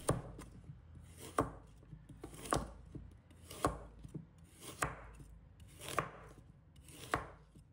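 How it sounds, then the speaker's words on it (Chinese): A knife chops a carrot into small pieces on a board, seven firm, evenly spaced thuds about a second apart, close and clear with quiet gaps between. "准备1条胡萝卜，把它切成小块"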